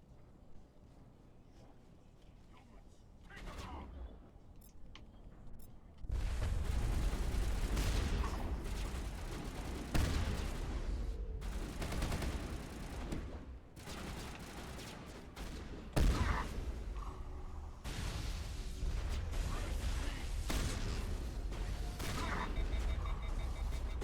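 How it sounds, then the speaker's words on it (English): Grenade blasts and gunfire in the Mass Effect video game, a dense loud stretch of overlapping bangs and bursts, with a couple of heavier booms standing out, under faint background talk. "grenades"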